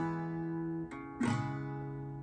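Acoustic guitar playing the opening phrase of the first line of a song, a sustained chord ringing clearly, then a fresh strum just past the midpoint that rings on to the end.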